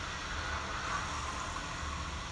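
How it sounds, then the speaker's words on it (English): Mexico City street traffic rolls past outside a hotel room as a steady, distant wash of engine hum and road noise with no distinct individual vehicles. "here we are with the microphone outside of a hotel room, hearing the Mexican traffic"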